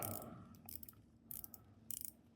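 Rotating bezel on a Citizen Promaster 40th Anniversary Limited Edition dive watch gives short bursts of crisp ratcheting clicks, close and quiet, in three quick clusters with nothing else heard.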